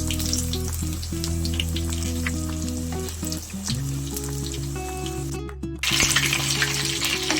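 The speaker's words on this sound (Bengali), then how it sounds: "তারপরে ধীরে ধীরে ঘুরিয়ে ঘুরিয়ে ভালো করে ভাজবেন।" Oil sizzles and crackles steadily close by as chicken paneer cheese rolls fry over low heat, with a low hum running underneath and occasional soft stirring clicks.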